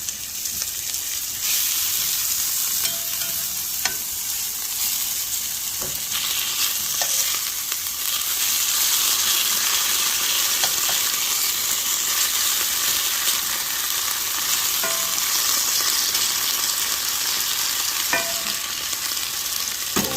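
Food frying and sizzling in a pan on a kitchen stove, a steady close hiss with occasional light stirring taps throughout, no talking.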